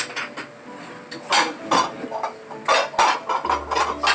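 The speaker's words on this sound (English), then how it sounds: "excuse the noise while I get a bowl out" Ceramic dishes and cutlery clatter and clink in a series of sharp, close knocks as a bowl is pulled out in a kitchen during cooking, irregular bursts without talk.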